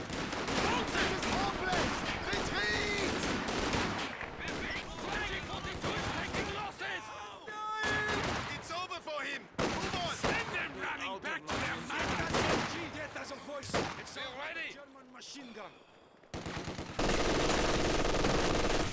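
Machine gun bursts and scattered gunfire from a 2v2 match of the video game Company of Heroes 2, rattling in repeated bursts under a steady commentator's voice.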